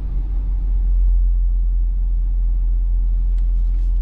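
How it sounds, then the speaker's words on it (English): A steady, deep low-frequency exhaust-like drone hums inside the cabin of a 2021 Jeep Grand Cherokee L Summit Reserve, constant and fairly loud, with faint road noise and no talking. "almost like an exhaust drone"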